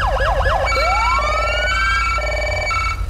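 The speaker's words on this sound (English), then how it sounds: "Lights and sirens test before we go on duty." Loud emergency vehicle siren in the FiveM game, cycling quickly through rapid yelp sweeps, then a rising wail, then alternating high-low tones, close and unbroken over a low engine rumble.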